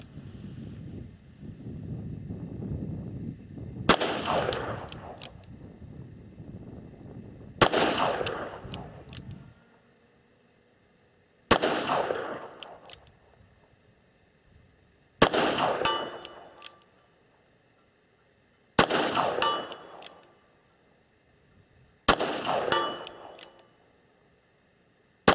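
A Smith and Wesson 686 Plus .357 Magnum revolver fires six loud, sharp shots outdoors at a long-range target. Each report echoes and decays, with gaps of several seconds between shots.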